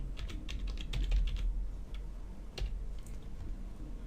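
Computer keyboard typing while writing code, a quick irregular run of close, crisp key clicks that carries on throughout with no voice.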